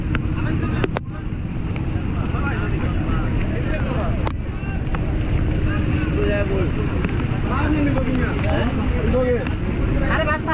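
A motorized trawler boat on a small river gives off a steady, loud low engine rumble mixed with wind buffeting the microphone, while people talk over it.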